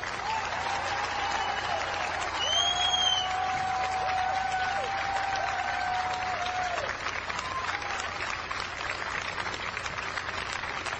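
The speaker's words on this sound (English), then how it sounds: "They deserve our applause." Crowd applause during a September 11, 2010 outdoor speech in New York near Ground Zero, a sustained spread of clapping heard from a distance, with a tonal whistle or siren-like sound cutting through briefly near the start.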